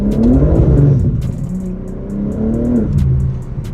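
A BMW M5 engine revs hard while the car drives, loud and close, with the pitch climbing and dropping through several throttle surges.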